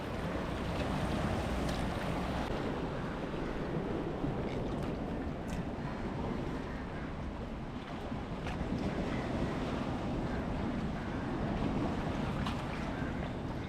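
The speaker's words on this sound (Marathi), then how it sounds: "आणि एक होडी आली होडी" A small boat moves across open water near Mumbai, its steady engine drone blending with wind and lapping waves for the whole stretch.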